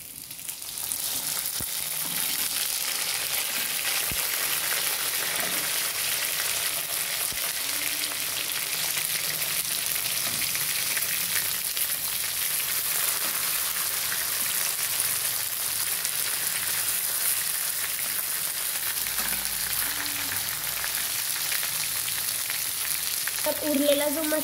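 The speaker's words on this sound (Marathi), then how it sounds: "आता लसूण लाल झालेला आहे व त्यामध्ये आपण ही भरलेली भेंडी सोडून देऊ" Stuffed okra fries in oil over a garlic tempering, a continuous close sizzle and crackle with occasional stirring, holding steady throughout with a small clatter at the end.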